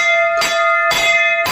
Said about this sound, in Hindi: सर्वप्रथम बाबा के दरबार में घंटी को बजाते हैं